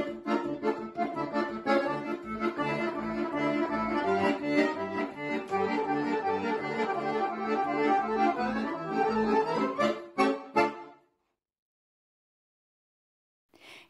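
An accordion plays a lively, busy melody with pumping chords for about ten seconds, then the music breaks off and almost silence follows.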